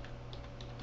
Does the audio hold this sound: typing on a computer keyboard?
yes